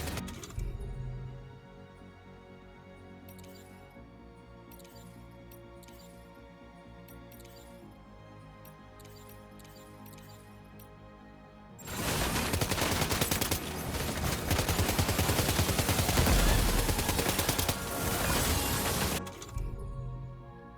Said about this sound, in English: The Magellan's main cannon is online and ready to provide fire support.